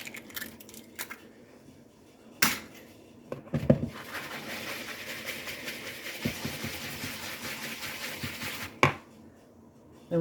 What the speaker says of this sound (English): I think I'll put the egg in first and try to break it up a little bit